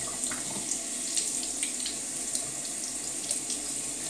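A tap runs steadily over a new shaving brush being rinsed, a continuous bright hiss of falling water into a sink, loud and close with no pauses.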